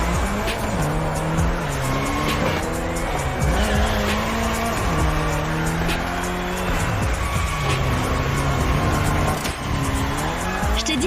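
A car drifting in the racing game The Crew Motorfest, loud continuous engine revving that rises and falls with sustained tire squeal through the turns, no voices.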